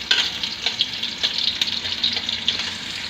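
Onions frying in oil and being stirred, a close, steady crackling sizzle with soft rhythmic scraping strokes.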